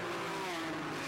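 A race car at a 1991 ASA Players 500 race in Calgary squeals its tires as it spins, a short sustained screech with a slightly falling pitch over engine roar.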